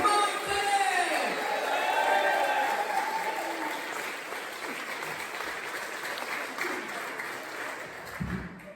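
A church audience claps loudly to welcome comedian Mark Dennett on stage, a sustained wash of applause with a few whoops that slowly tapers near the end.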